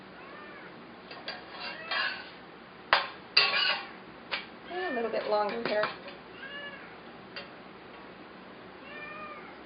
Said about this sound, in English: You hear my kitty cat?